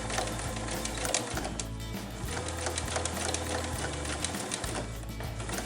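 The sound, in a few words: sewing machine stitching fabric face mask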